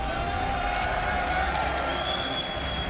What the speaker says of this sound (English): Ladies and gentlemen, one more round of applause for SpeCial.